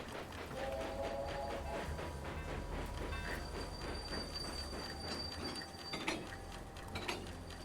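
A train runs on tracks in the video game Railway Empire, a steady rumbling roll of wheels with rhythmic clacking and occasional metallic squeals, moderately loud and continuous.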